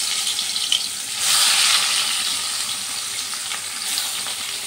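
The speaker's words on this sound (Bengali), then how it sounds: "এবার আমি চিংড়ি মাছগুলো হালকা করে ভেজে নেব" Salted, turmeric-coated prawns hit hot oil in a wok with a steady broadband sizzle that swells louder after about a second and holds, close and continuous, with no talk.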